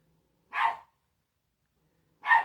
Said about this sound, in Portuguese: Olha, tem até um cachorro latindo lá fora.